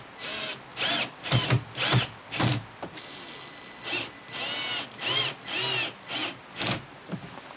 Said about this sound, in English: I'm going to proceed to screw in all of these screws